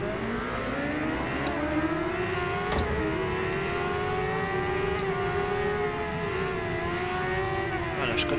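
A Kawasaki ZX-10R motorcycle engine in the Ride 2 racing game accelerating hard, a loud, continuous whine whose pitch climbs and drops briefly at gear shifts, close and unbroken.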